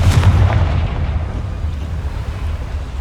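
A Confringo spell explosion in Hogwarts Legacy, a loud deep boom at the start that trails off into a rumbling roar.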